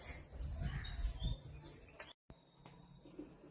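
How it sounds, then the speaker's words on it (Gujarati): Pigeons gathering at a feeding spot after heavy rain, giving soft low calls and a few brighter chirps from nearby birds, fairly quiet and intermittent against a calm outdoor background. "ઘણો વરસાદ પડ્યો છે એટલા માટે કબૂતર પણ આવી ગયા છે"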